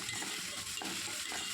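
Coconut and vallarai greens are being sautéed in a pan for thuvaiyal: a soft, continuous sizzle with stirring scrapes, fairly faint and close, with no talking.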